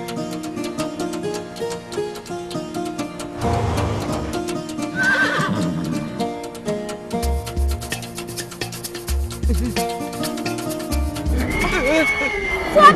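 A cartoon horse neighs and whinnies while galloping hooves pound over a busy music score, the whinnies rising high and repeated amid the action.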